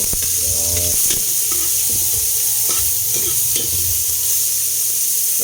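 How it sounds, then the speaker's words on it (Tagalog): Onion sautéing in a hot pan, a steady loud sizzle with a scraping stir and clanks from the utensil, while someone briefly speaks at the start. "ito natin gisa ay yung ating sibuyas"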